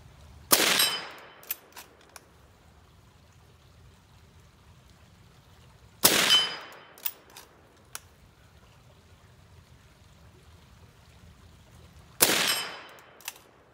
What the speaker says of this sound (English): There's nothing like shooting steel.